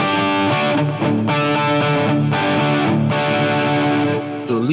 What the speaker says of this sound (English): Let's go from clean